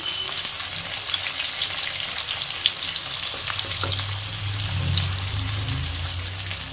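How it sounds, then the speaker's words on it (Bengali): Chopped onions, two medium-sized, sizzle in a pan while mixed pulao is cooked from leftover rice, a steady hissing fry with occasional soft clicks and stirring, close and alone. "এগুলোর থেকে সুন্দর একটা গন্ধ বেরোলে আমি দিয়ে দেবো এখানে পেঁয়াজ কুচি"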